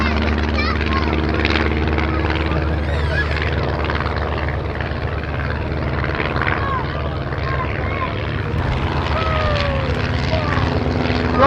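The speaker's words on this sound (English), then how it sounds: "I should think that the aeroplane flies a lot better now" The Grosvenor House aeroplane gives a flying display at Little Gransden Airshow, its propeller engine droning steadily and loudly as it passes, with a commentator's voice running over the top.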